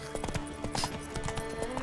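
Roach, Geralt's horse in the video game The Witcher 3, walking with a steady, clear clip-clop of hooves over faint background game ambience.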